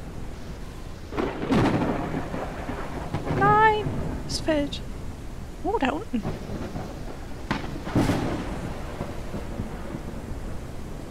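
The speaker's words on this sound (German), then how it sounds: "Geh weg, Gewitter." Thunderstorm with rain in the video game Forever Skies, rumbling in the background with low swells while someone talks and other game sounds chirp over it.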